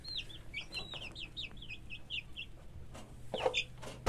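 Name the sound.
hen clucking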